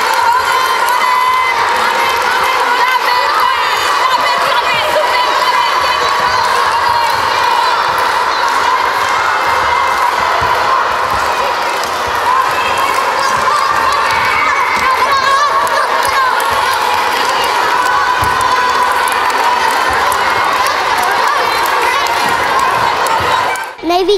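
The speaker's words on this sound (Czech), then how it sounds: "Fandění a pozbuzování k lepším výkonům je základním prvkem každého sportu." Young kindergarten children at an outdoor athletics event cheer and shout encouragement, a loud, continuous crowd of high voices rising and falling for the whole stretch, with no pause.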